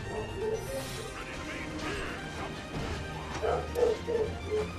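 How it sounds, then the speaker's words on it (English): A dog barking, a few short barks early and a quick cluster of several more near the end, over a busy background of game sounds. "A dog."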